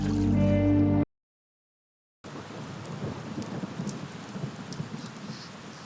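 Heavy rain pours down steadily with low rumbling thunder, starting after a moment of tonal music and a second of dead silence.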